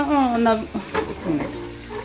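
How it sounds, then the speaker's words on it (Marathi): Onion fries in a pan at home while prawns are being cooked, with a soft crackling sizzle running under a person's speech. "हे बघा मस्त कांदा फ्राय होतोय"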